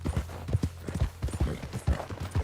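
Horse hooves clip-clop in the video game Red Dead Redemption 2, a close, steady rhythmic trot of sharp hoof strikes with no talk over them.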